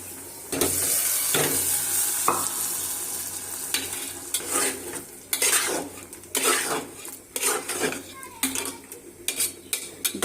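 Garlic and onion tempering poured into cooked lentil dal with bottle gourd, loud clatter of a metal utensil against the pot alongside bursts of sizzling and stirring, close and uneven.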